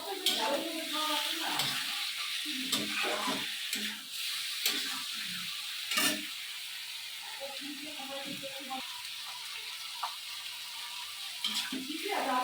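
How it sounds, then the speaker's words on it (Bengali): Duck meat stir-frying in oil, being cooked down until the oil separates; a close sizzle with frequent clattering strokes of a spoon against the pan, irregular and busy, and no voices present. "এখন একটু এভাবেই কষাতে হবে যতক্ষণ পর্যন্ত তেল না ছেড়ে দেয়।"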